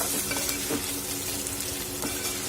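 Okra stir-fried in a pan: constant close frying sizzle with occasional soft scrapes and knocks of stirring, heard alone without voices.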